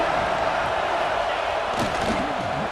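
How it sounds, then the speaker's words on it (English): A stadium crowd in EA Sports College Football 26 keeps up a dense, steady roar throughout, loud and continuous, pushing the defense for a red zone stop. "here comes the noise. This crowd is trying to inspire this defense to make a big red zone stop"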